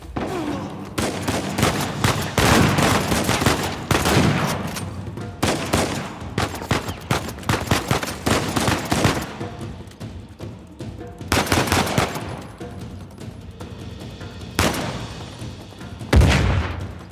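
Heavy gunfire and rapid machine gun bursts in an Uncharted 4 firefight, loud and sustained with dense overlapping shots and booms, pausing briefly before a few final bursts.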